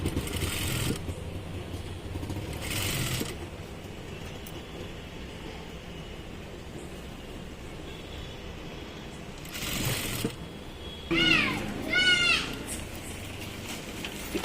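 A sewing machine stitches a folded half-inch fabric hem in short mechanical bursts separated by a low steady hum, with a few squeaky tonal chirps near the end.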